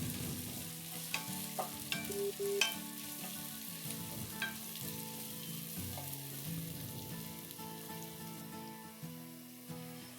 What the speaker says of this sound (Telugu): ఇలా ఉల్లిపాయలని మధ్య మధ్యలో కలుపుకుంటూ ఉండాలండి.